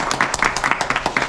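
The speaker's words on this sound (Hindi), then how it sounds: "तो एक बार भैया के लिए ताली बजा दीजिए।" A live audience claps in quick, uneven bursts for a contestant in a sweet-eating challenge eating soan papdi, the short applause loud and close with no talk over it.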